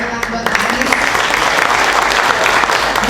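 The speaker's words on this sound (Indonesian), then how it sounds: "Oke, kita berikan tepuk buat Pak Anies." Loud, dense applause from an audience at a public question-and-answer event with Indonesian politician Anies Baswedan, a steady wash of many hands clapping that fills the whole few seconds without a break.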